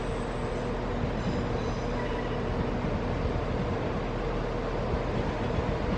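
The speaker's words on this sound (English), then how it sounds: "Here comes the Birmingham train." A three-coach Birmingham train pulls into a station platform, giving a steady, loud rolling rumble that holds evenly throughout with no voices.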